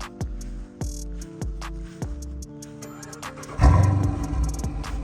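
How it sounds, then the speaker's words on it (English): A new car's engine starts by remote, catching with a burst of noise after several sharp clicks and settling into a steady, fairly quiet idle close by. "I'm gonna give y'all a remote start."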